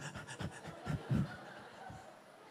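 A man imitates heavy, strengthening breathing with a series of rhythmic, panting huffs, close and fairly quiet.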